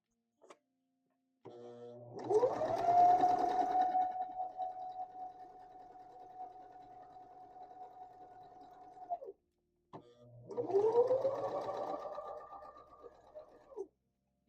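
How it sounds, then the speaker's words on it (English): A sewing machine runs zigzag stitches on stretched fabric in two long bursts. Each burst ramps up to a steady whirring hum and then stops abruptly, with a short pause between them. "And I'm using a zigzag. I'm still stretching the fabric as I go"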